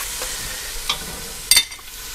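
Onions sweating in a pan for New England fish chowder give a steady soft sizzle, close, with a few light scraping stirs and one sharper clatter.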